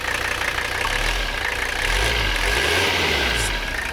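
A Mercedes 300CD diesel engine idles low and rough, with a steady uneven clatter close by and slight wavering in speed; no voices.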